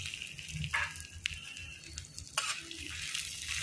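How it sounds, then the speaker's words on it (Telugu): Curry leaves fry in hot oil in a pan while a peanut and dry chilli chutney is prepared, giving a faint, steady sizzle broken by a few sharp stirring clicks. "ఇప్పుడు కరివేపాకు వేసుకుంటాను."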